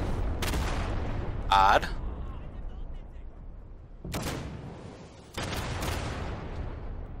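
Gunfire and a grenade explosion in the video game Day of Infamy: several sharp, loud bursts of shots and blasts separated by quieter stretches of rumbling battlefield ambience, with a brief spoken word.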